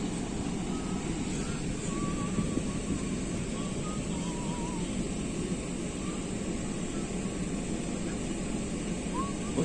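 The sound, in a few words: waves in the lagoon at Saint-Pierre seafront, wind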